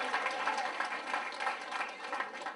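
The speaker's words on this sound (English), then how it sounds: "give a rounding, rousing applause for the decorating team who decorated this hall for us" Banquet-hall applause for the decorating team, a crowd clapping at moderate distance, fairly soft and steady with no talk over it.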